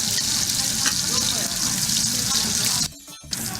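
Shrimp sizzle steadily in hot oil in a pan, a dense, bright frying hiss that runs close and loud before cutting out abruptly near the end.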